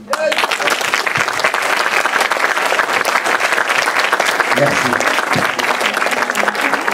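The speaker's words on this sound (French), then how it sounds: "Applaudissements plus forts, s'il vous plaît, pour Yannick" Seminar audience giving sustained, loud applause for a speaker named Yannick, a dense continuous roar of clapping, with a voice briefly heard near the start.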